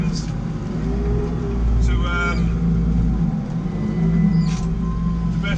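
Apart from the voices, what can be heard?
JCB Fastrac 4220 tractor engine while ploughing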